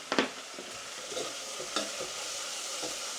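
Steak and vegetable pie filling sizzles and fries steadily in a pan while a spoon stirs through it, giving a few scraping knocks over a constant close hiss.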